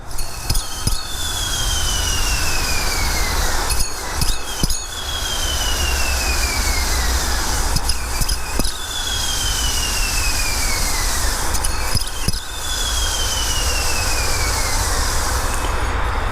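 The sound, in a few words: grinding bearing in stock idler pulley, 04 Cobra engine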